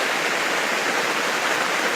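Heavy rain on a Coleman WeatherMaster 6-person tent, heard as a dense, unbroken hiss that stays loud and even for the whole stretch, with no voices.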